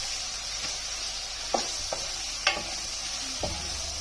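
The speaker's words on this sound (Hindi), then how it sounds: "चिकन हमारे यहाँ पे ऑलमोस्ट फ्राई हो चुका है" Chicken pieces fry for chow mein with a soft, constant sizzle, broken by a few sharp clanks of a spatula scraping and stirring the pan, close and without speech.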